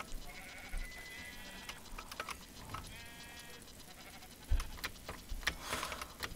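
Sheep in the Minecraft video game bleat twice in short wavering calls, mixed with game sound effects, footsteps and clicks under a steady background.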